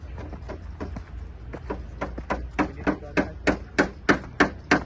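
Rapid hammer blows driving nails into wall frames, a run of sharp knocks that grow louder and more regular toward the end, nearby.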